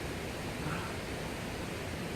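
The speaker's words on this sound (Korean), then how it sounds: "파래서 폭포입니다." Paraeseo waterfall in Ulsan, near Sinbulsan, flows with a steady, dense broadband rush of falling water. The hiss is even and unbroken throughout, moderately loud and heard alone without voices.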